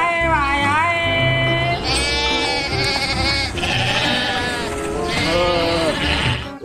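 A goat bleats loudly and close, a run of long wavering cries one after another with barely a pause, filling the whole stretch without any talk.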